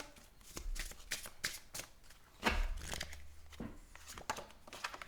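Oracle cards from the Love Shadow Oracle deck are shuffled by hand for a tarot-style love reading, heard as close, crisp riffling bursts with one louder flurry midway.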